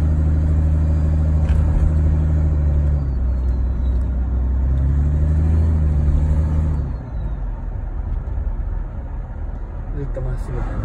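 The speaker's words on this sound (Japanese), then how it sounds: "このマンホールの乗り越えた時の音" A diesel Toyota Land Cruiser 100 with a 4.2-litre engine rolls over a manhole, its low engine rumble steady under the cabin with a brief thump and shift as the wheels cross, then a quieter drone.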